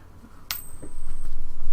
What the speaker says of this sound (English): That's the sound of a coin being flipped.